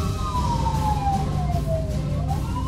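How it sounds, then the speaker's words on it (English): Several emergency sirens from a fire truck, ambulance and police car wail together, loud and continuous, their pitches gliding up and down over a rumbling road background. "Multiple sirens."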